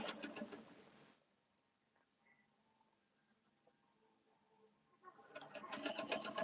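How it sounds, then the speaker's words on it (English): Sewing machine top stitching close to the edge of a black-to-red shirtdress in a quiet late-night setting, a steady busy whir running for about a second at the start and again from around five seconds, with near silence between. "I'm being real careful to top stitch this"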